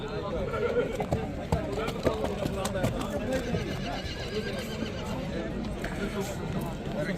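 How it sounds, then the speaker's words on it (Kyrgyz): At a horse market, horses whinny and neigh amid a busy crowd, with hoof clip-clops and people talking throughout the noisy outdoor scene. "Эгер рабочий ат керек болсо, мындай жакшынака ат бар экен."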